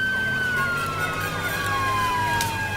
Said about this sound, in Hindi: परसू, पुलिस, चल भाग।